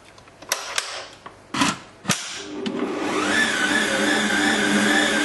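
An electric hand mixer whirs into a steady, rising motor drone while eggs go into the bowl, preceded by a few sharp clicks and knocks.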